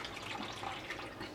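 Fresh water trickles and splashes into a large water bowl in a snake's tank, a soft, steady pouring sound heard faintly and alone.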